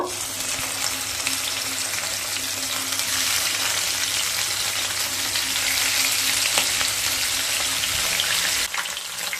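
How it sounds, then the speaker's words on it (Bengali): Silver carp pieces frying in mustard oil in a pan, giving a loud, steady, dense sizzle that runs unbroken and close throughout, with a brief dip near the end. "এবার মাছগুলোকে ভেজে নেব"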